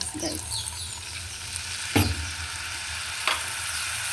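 Chicken frying with calamansi, pepper and soy sauce sizzles steadily in a pan, broken by a couple of sharp scraping stirs against the metal.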